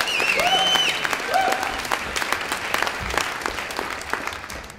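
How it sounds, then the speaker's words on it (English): An audience at a Pecha Kucha talk at the London Book Fair applauds a speaker with dense, continuous clapping that stays loud, then thins slightly toward the end. "So big round of applause, please, for our first speaker, Peter Collingridge."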